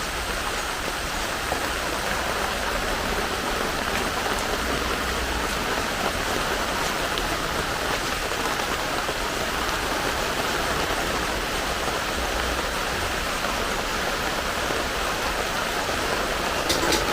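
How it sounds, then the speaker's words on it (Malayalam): Steady, dense rain pours down near a rural home with a pond, a loud and continuous wash of falling water with no voices over it. "ആ മഴ ഇവിടം വരെ എത്തിയിട്ട് ചീറ്റിപ്പോയേ"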